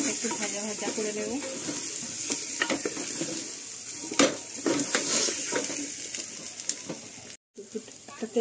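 Dal seasoned with turmeric sizzles as it fries in a pan, with a continuous hiss and frequent scraping stirs close by, then a brief dropout near the end before the frying resumes.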